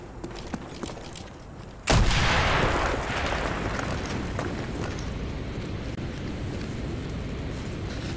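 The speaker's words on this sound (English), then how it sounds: "Mason, blow a hole in that fucking wall." In Call of Duty: Black Ops, an explosive charge blasts a hole in a wall with one sharp, loud boom that rolls into a long rumbling roar of debris and battle noise.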